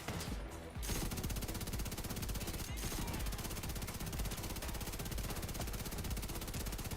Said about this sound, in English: look at all these shots I'm putting out